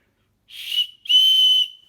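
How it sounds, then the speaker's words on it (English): A shrill emergency whistle blows twice, a short blast followed by a longer piercing one, loud and close with silence around it. "It looks like you got a little emergency whistle on this side."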